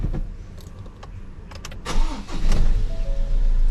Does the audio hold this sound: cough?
no